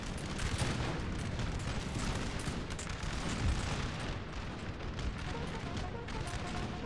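Several cannons fire canister rounds in Napoleon: Total War, a steady barrage of overlapping booms and crackling shots that continues throughout, with talk faint beneath it.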